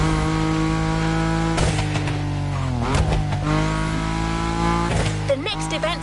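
Car drifting in The Crew Motorfest on PS5: a loud, steady engine drone with shifting revs, tire squeal breaking in around the middle and again near the end, with no break from start to finish.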